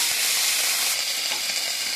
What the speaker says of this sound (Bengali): ফুলকপিটা ভাজা ভাজা করবো